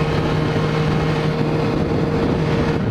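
A 2015 BMW S1000R motorcycle engine holds a loud, steady high-rev drone close by, an unbroken buzzing roar with no talk over it.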